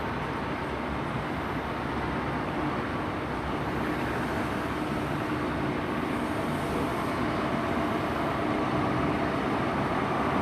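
A Class 43 HST power car, number 43197, rumbles steadily at Cardiff Central station on a Swansea to London Paddington service; a continuous, broad engine and rail roar that stays even throughout, with no voices.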